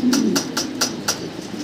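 Fancy pigeons coo close by in a series of soft, rounded calls, about five throaty pulses spaced roughly a quarter second apart, with a faint low hum underneath.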